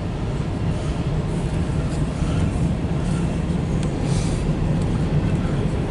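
CSX Q415-08 mixed freight train led by locomotive 762 rolling along, a steady heavy rumble with broadband rail and wheel noise throughout, loud and close.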